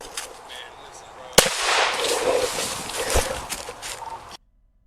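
Police gunfire in Jacksonville, Florida: a single sharp, loud shot rings out, followed by a noisy stretch and a second fainter bang before the sound cuts off abruptly.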